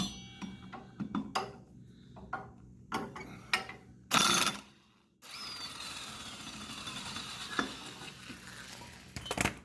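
A ratchet wrench loosening a bolt on a drive belt pulley: bursts of rapid ratcheting clicks, a brief loud rattling burst, then a steady mechanical whir with scattered clicks, close and alone.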